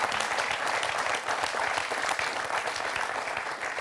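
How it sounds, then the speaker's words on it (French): A studio audience claps steadily for a contestant on the French quiz show Questions pour un super champion, a dense, even wash of applause lasting the whole moment with no voices over it. "On applaudit Michel."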